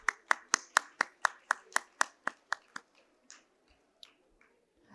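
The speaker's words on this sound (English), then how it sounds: "A round of applause" About a dozen loud claps in a steady rhythm open a valedictory ceremony round of applause, slowing and thinning out after three seconds. A few scattered claps and faint clicks follow in an otherwise quiet room.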